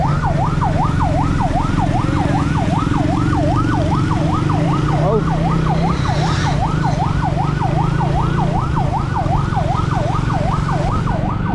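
A loud emergency vehicle siren wails in a fast, regular up-and-down cycle without pause, close by over a low rumble of road traffic during long-distance land travel in the Philippines.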